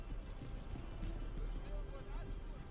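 Light horse cavalry gallops across a battlefield in Empire: Total War, a steady rumbling drum of many hooves under a dense wash of battle noise and a faint voice.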